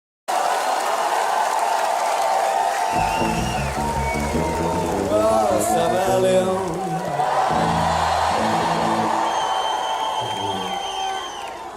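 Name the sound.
big concert crowd cheering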